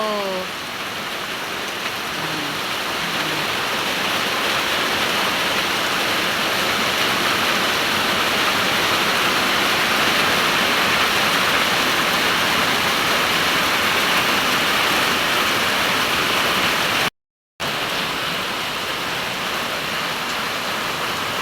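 A steady, dense roar of heavy rain pours down continuously and loudly, a broadband hiss with no voices, broken only by a brief dropout near the end.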